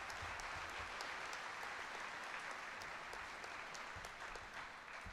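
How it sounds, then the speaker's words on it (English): Steady applause from an audience at a school closure ceremony in Seoul, dense clapping from many hands holding an even level throughout with no pauses. "another round of applause for these great teachers in this phenomenal student body."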